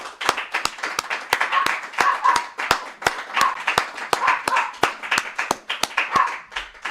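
A church congregation claps in a fast, even rhythm, sharp hand claps landing roughly twice a second over a murmuring crowd, loud and close throughout.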